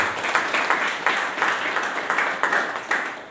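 A church congregation claps together in a rhythmic, pulsing beat, roughly two claps per second, moderately loud and steady across the few seconds with no speech.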